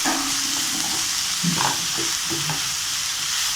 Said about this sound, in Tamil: எல்லாம் சேர்ந்து நல்லா வதக்கி எடுத்துக்குவோம்.